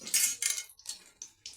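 Whole spices (bay leaf, dried red chilli, a cinnamon stick, a clove and a cardamom) stirred in hot oil in a wok for a soybean curry, heard as a few short bursts of metallic scraping and clinking, close and fairly soft.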